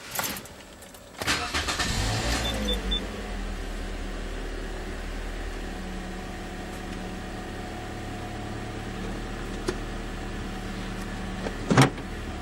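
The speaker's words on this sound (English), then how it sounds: "Now I'm going to go ahead and start the car and show you what the backup camera looks like." A Toyota Corolla Altis, around 2014–2015, starting up: a brief starter crank catches into a steady idle that hums on evenly, heard close from inside the car, with a short mechanical whir near the end and no talk.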